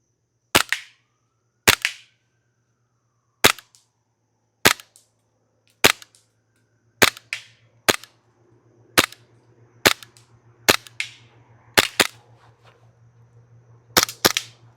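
A Lancer Tactical LTX airsoft pistol fires at a row of targets: roughly a dozen sharp, close snapping shots, spaced irregularly and often in quick pairs, over a faint steady hum.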